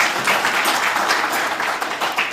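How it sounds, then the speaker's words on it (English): An audience at a regional state address in Otjozondjupa, Namibia, breaks into dense, steady applause that fills the space without pause. "Give that institution a round of applause."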